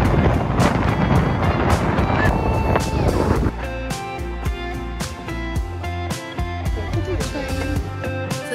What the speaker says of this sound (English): Very windy here in Nice today.